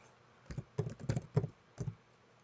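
Several quick bursts of computer keyboard typing on a used-vehicle search site, short clustered clicks in a quiet room with no talking.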